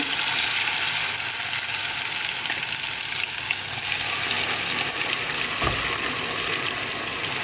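A steady, loud grinding whir runs throughout as a blender grinds garlic and spices dry without water, with one brief thud near the end.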